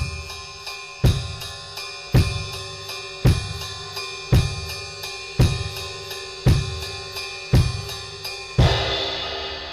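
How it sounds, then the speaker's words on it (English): Drum kit playing a steady triplet groove, even cymbal strokes laid over regular bass drum quarter notes, about nine loud evenly spaced beats with a cymbal wash ringing at the end; no voice. "So we are going to have 3 even notes over each bass drum quarter note."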